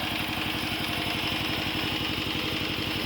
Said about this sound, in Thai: เป็นเครื่องยันมานะครับ ตัวนี้ก็เก่ามากแล้วนะครับ